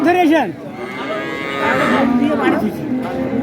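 Dairy cows and calves of Sahiwal, Sindhi and local breeds low repeatedly at a busy village cattle market, several drawn-out moos close by and overlapping, with crowd noise in the background.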